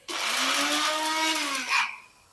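A mixer grinder whirs loudly, grinding bread with sugar for a bread halwa in a home kitchen, running steadily for under two seconds before winding down and stopping.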